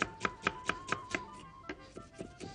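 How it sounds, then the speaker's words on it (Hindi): Onion being finely chopped with a knife on a board, a quick steady series of crisp close taps, about ten cuts in a brisk even rhythm, the later ones slightly softer. "प्याज को चॉप करके हम डालेंगे"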